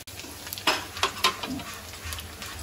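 Ginger, garlic and green chilli sizzle in hot oil in a kadai, a steady crackle broken by several louder bursts as the pieces hit the oil and are stirred, heard close with no talking.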